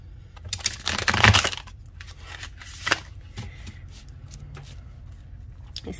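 Tarot cards are shuffled by hand at close range: a dense riffling burst early on, then a few shorter crisp snaps and light card flicks, quiet pauses between them and no talk.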